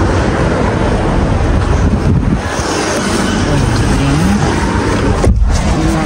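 A car driving in hot weather on the way to a beach parking area, with steady loud engine and road rumble plus wind buffeting throughout, no talk over it.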